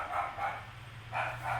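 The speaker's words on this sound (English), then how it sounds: "Y'all hear the dog." A dog barks in a home setting, about four loud, evenly spaced barks in two pairs standing out over a low background hum, with no talk.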